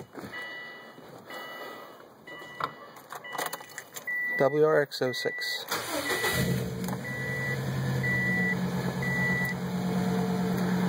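A 2006 Subaru WRX with an aftermarket downpipe and exhaust cold-starts: the engine cranks and catches, settling into a steady idle after some jangling and handling noises, with a brief spoken phrase near the start.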